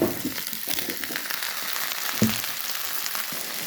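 Taro fries in a pan with browned onion, black cumin, chili and turmeric, a steady close sizzle and hiss with a few soft knocks of stirring, no voices.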